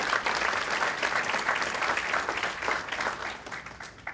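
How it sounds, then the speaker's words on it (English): Applause from a conference audience at a plenary session, steady, dense clapping from a large crowd that carries on for several seconds and tapers slightly toward the end. "give yourself an applause for all the work that you've"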